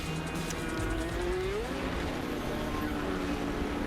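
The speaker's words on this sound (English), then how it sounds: "Cars still on the pace laps." IndyCar race cars on pace laps at the 2013 Detroit street race, a steady droning engine roar with a rising pitch sweep as one car passes, continuous and moderately distant.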